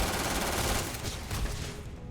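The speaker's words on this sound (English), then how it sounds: "let's pull out the assault rifle" Sustained automatic assault rifle fire in the space game Starfield, a dense continuous burst of rapid shots running loud throughout with no talking.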